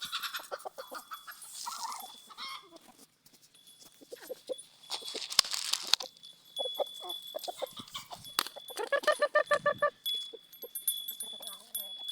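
Chickens and young chicks cluck and peep in a farmyard setting, scattered calls rising and falling at moderate distance, with a few other animal sounds and background noise mixed in.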